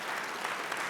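Brief burst of audience applause at a charity awards night, dense even clapping from a large crowd at moderate distance, heard alone.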